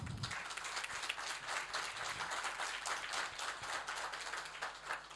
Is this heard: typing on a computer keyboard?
no